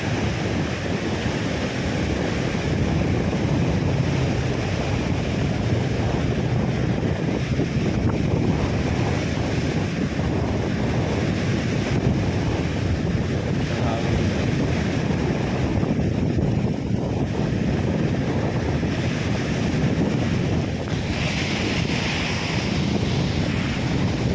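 Strong wind roars continuously across the microphone by the sea during a typhoon, with a heavy rushing buffet and surf underneath, no voices.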